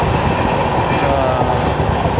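Passenger train running fast along its track through monsoon-soaked Kerala hills, a steady, loud rumble and hiss of wheels and carriage with no clear breaks, heard from inside the moving coach.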